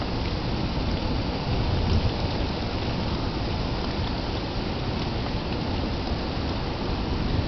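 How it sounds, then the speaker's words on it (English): Steady heavy rain pours outdoors during a thunderstorm with lightning, a dense even hiss that holds at a constant level throughout, with no voices. "We got some pretty crazy lightning going on out here."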